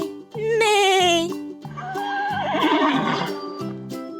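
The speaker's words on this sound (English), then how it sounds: "the horse says neigh, neigh" A horse whinnies loudly and up close, a long shrill neigh followed by a wavering, shaky second call, with no other sounds around it.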